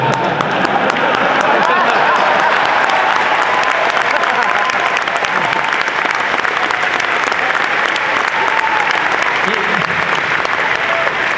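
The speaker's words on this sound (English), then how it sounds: "You really should applaud that." Convention audience at a Star Wars Celebration panel breaking into loud, sustained applause from a large crowd, dense and continuous for the whole stretch with cheering mixed in.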